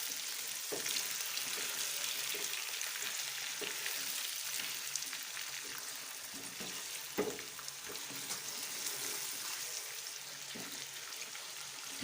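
Mutton for matar gosht browns in a frying pan with a steady, close sizzle and crackle. Small pops and stirring clicks come through now and then, with no talk over it.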